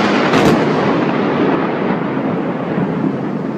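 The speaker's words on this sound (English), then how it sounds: "here is the video, the clip from the lightning that people have been talking about" Thunder from a lightning strike, a loud broadband rumble with a sharp crack near the start that rolls on steadily and fades slightly across the clip.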